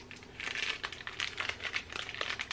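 A small plastic bag holding a Disney Animator's Collection mystery pin is crinkled and pulled open by hand, giving a steady run of soft, close crackling and rustling with no speech.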